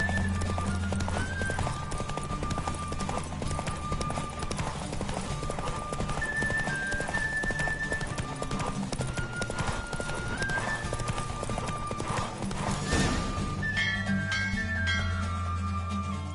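Galloping horse hooves in The Witcher 3: Wild Hunt during a race, a steady loud clip-clop rhythm with occasional neighs over continuous game music, ending in a brief flourish.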